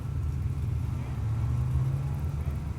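A turbocharged LS-powered Nova drag car staging and building boost, a low, steady engine rumble under a commentator's voice.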